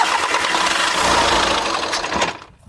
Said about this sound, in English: Today I'm riding the Yamaha MT-15 and that's actually a BS4 mod.